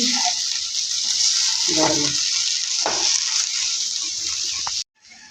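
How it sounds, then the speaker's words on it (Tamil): Potatoes go into a pan of sautéed tomatoes for a Tamil potato poriyal, a steady close sizzle with brief stirring scrapes before it cuts off abruptly near the end. "நம்ம இப்போ உருளைக்கிழங்கு போட்டுடலாம்"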